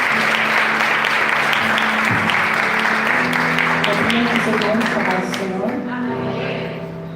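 Church congregation applauding during a service with a missionary, loud sustained clapping filling the room, with voices and sustained tones mixed in beneath as the applause gradually thins toward the end.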